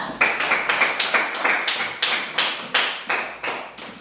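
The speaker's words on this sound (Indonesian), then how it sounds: "mari kita tepuk tangan buat kelompok 2" Elementary classroom children clapping together for a group in a rhythmic patterned clap, about a dozen sharp, evenly spaced bursts of many hands, fairly close with no talking.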